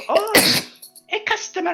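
A single sharp sneeze-like burst from a person, brief and close, set between snatches of spoken talk.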